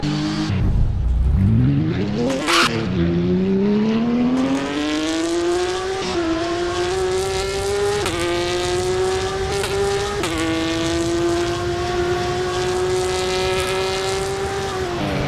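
Porsche GT3 race cars pulling away at a race start, the engine note rising sharply with quick gear changes, loud and close, then a steady high howl as the field speeds off.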